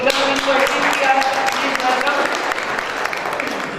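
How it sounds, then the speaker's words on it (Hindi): Loud applause from a crowd at an RCM seminar, dense clapping rattling steadily for several seconds and slowly easing off at the end. "तो आगे जोरदार तालियां होती हैं"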